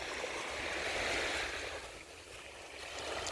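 Ocean surf washes onto a cold, sunny winter beach, a broad rushing swell that builds, eases, then rises again, steady and fairly close with no talking.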